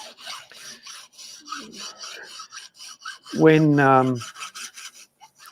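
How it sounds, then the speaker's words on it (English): A hand file rasps across a burr on a piece of metal clamped in a vise, several short close scraping strokes in a steady rhythm, with one brief ringing squeal midway. "there's still a burr on that bit of metal, so I'll take that off. While it's sitting in the vise"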